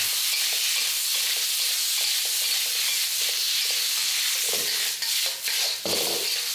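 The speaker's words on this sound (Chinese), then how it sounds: "先把肉放进来和姜炒在一起，这样子的话就可以让那个姜的味道进到肉里面" Pork belly and ginger stir-fried in a hot wok give a steady, loud sizzle with scraping stirs and a few bursts of louder spattering near the end, with no voices.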